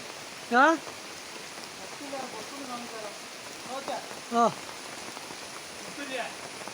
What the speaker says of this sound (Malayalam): നല്ല മഴ പുടുത്തം വിട്ട മഴ പെയ്യുന്നുണ്ട്